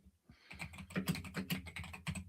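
Rapid typing on a computer keyboard, a busy run of close, crisp key clicks with uneven rhythm, heard alone without any talk.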